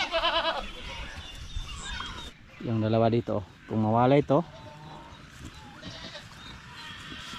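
Goats in a pen on a provincial farm let out two loud, close bleats in quick succession, with a person talking in Filipino before and after.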